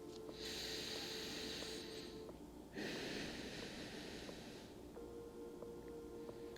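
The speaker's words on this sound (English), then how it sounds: "and breathe" Slow, deep breathing in a yoga child's pose during a morning flow, with a long airy inhale and exhale over a steady low background hum.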